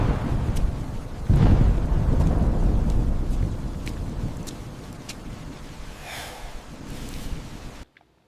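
Steady heavy rain hisses throughout an AI-generated Veo 3 scene, with a loud low thunder rumble near the start and fading rolls later, ending in abrupt silence.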